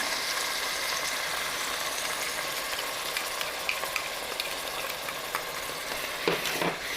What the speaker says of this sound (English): Go ahead and mix all that up.